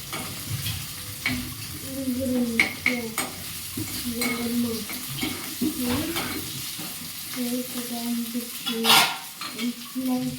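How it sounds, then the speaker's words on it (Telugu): Onions frying in oil in a pan for a Rayalaseema-style okra curry, a steady sizzle with repeated scraping stirs and occasional metallic clinks of the spoon against the pan, close and fairly loud, no talking. "ఆనియన్స్ కాస్త light brown golden brown colour వచ్చేంత వరకు ఫ్రై చేసుకోవాలండి"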